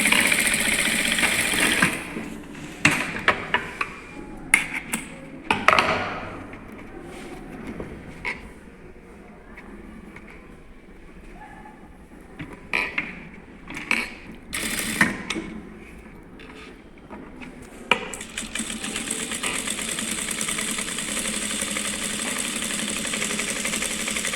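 A sewing machine stitches seams in fabric with a steady mechanical whirr that runs in bursts, with clicks and brief pauses between stitching runs before a long continuous stretch at the end.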